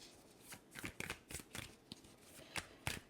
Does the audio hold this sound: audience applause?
no